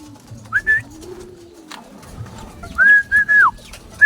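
Captive pigeons or doves give soft whistling coos, a short phrase, then a longer run of three or four, close by over quiet background rustling.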